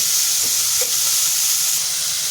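Cabbage being sautéed in a hot pan for mushroom fried rice gives a loud, continuous sizzle and frying hiss, with a few faint stirring scrapes and no voices.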